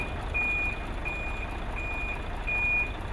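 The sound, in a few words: truck being loaded at the port of Mombasa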